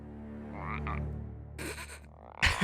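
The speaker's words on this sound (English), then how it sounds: "The frog got away!" A frog croaks in an Avatar The Last Airbender episode, a low droning call under a tonal hum, followed by a brief rustling burst and a sharp louder sound near the end, with no talk.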